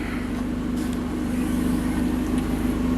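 Abarth 595 Turismo 70th Anniversary fitted with its standard exhaust system, a steady low engine drone with a faint rev swell, running continuously and fairly close with no voices.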